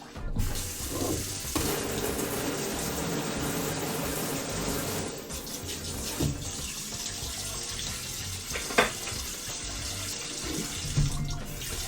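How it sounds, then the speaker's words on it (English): Cold tap water runs steadily into a sink as an ice cream maker part is rinsed, a continuous close splashing stream with slight shifts in flow throughout and no talking. "using cold water, I'm going to rinse out the ice cream thing"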